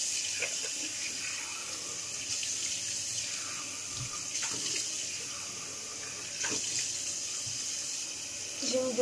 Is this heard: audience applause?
no